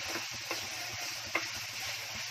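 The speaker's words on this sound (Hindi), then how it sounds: "पहले इसको भून लूंगी तेल प्याज टमाटर वगैरह में, फिर मसाला डालने का।" Onion and tomato fry in oil in a pan over a gas flame, a soft continuous sizzle with a few light clicks and scrapes of stirring, fairly quiet and with no voices.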